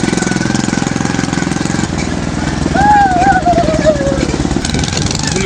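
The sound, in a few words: motorcycle engine running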